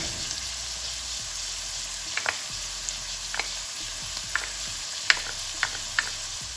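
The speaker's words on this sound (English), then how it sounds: "And let it saute for another 2 to 3 minutes." Vegetables, paneer and fox nuts saute in butter in a pan, giving a steady soft sizzle with scattered light clicks and scrapes from stirring, moderately faint and heard alone.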